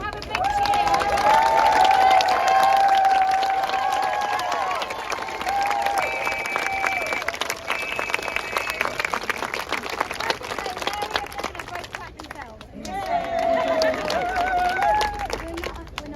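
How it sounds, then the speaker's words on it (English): Crowd at Speakers' Corner in London's Hyde Park gives loud, sustained applause and cheering, dense clapping throughout with a brief dip near the end before swelling again. "So if we can have a big cheer."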